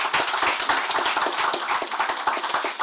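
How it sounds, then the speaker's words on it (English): An audience gives a hearty round of applause at a business presentation about a company's market listing, with dense, fast, steady hand clapping that fills the whole stretch, close and loud. "I think they deserve a huge round of applause."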